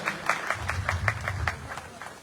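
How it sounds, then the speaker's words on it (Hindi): Crowd applause welcoming a guest at a local block-level gathering, a thin patter of scattered claps at moderate distance with low crowd murmur underneath, brief and fairly faint. "प्रमुख साहब से अनुरोध है कि जी एक जोरदार तालियों से स्वागत किया जाए।"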